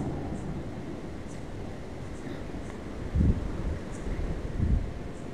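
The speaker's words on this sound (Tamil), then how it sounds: "காற்று கொஞ்சம் ஓவராக அடிக்குதுல்ல." Strong wind blows outdoors in a steady broadband rush, with occasional louder gusts buffeting the microphone and a faint rustle, continuous throughout.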